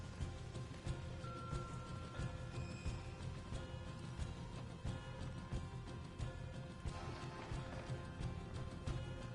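Horses gallop in the video game Red Dead Redemption 2, a continuous rapid drumming of hooves on the ground heard throughout at moderate level, with no voices over it.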